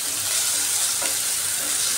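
Onions with green chillies frying in a pan, a loud, continuous sizzle with crackling close by, steady throughout with occasional stirring scrapes.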